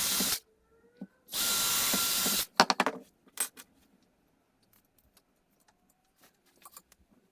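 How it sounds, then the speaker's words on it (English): A power drill drives screws into wooden pieces of a garden bird feeder, with a short whir, then a longer one-second burst, followed by sparse clicks and clatter of parts being handled. "So I'll screw them in now, and then I'm going to fix this into here."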